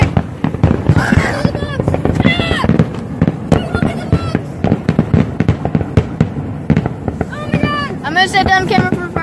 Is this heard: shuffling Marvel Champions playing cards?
no